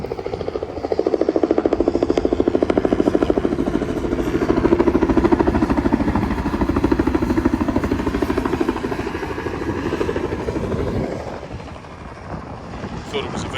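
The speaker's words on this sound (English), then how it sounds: "but it was just a helicopter" A helicopter passes overhead at an outdoor vintage truck and tractor show, its rotor giving a steady loud rapid chopping thud that holds for most of the clip before fading slightly near the end.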